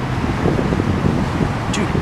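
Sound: wind blowing downtown

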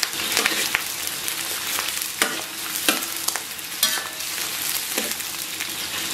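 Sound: frying onion, scallion and ginger in hot oil in wok

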